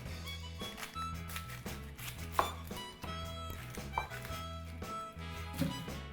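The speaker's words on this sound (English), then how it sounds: "I'm gonna slice up some of this onion" A knife slices through a big sweet yellow onion on a cutting board, with repeated crisp chops in an irregular rhythm, close and clear, with no talk over them.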